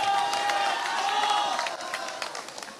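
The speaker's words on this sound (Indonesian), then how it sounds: "Jangan terlalu cepat tepuk tangan." A crowd of volunteers applauds and cheers during a speech by Prabowo, a dense wash of clapping and raised voices that swells and then thins out toward the end.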